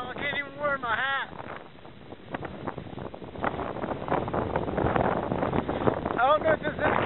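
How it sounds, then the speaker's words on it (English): Strong gusting wind during a storm chase buffets the microphone with a rough, roaring rumble that swells and falls, mostly beneath a person talking close by. "the wind is really picked up now. I can't even wear my hat."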